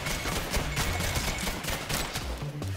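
Rapid video game gunfire rattles on steadily at moderate level, a dense stream of shots with no talking over it.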